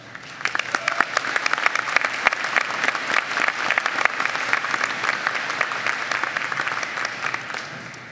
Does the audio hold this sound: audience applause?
yes